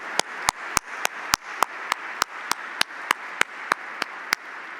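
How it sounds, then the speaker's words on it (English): Sparse, evenly spaced sharp claps at a ceremony, a slow steady rhythm of single strikes rather than a full crowd applause, for the San Francisco Sheriff's Department Color Guard at a sheriff's swearing-in. "how about a round of applause for Alondra Gutron and the San Francisco Sheriff's Department Color Guard?"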